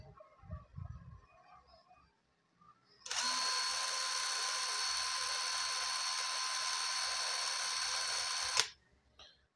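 A DeWalt 12V impact driver spins freely at its medium speed setting, a loud steady high whine that starts abruptly, holds for about five seconds and cuts off, after quiet background.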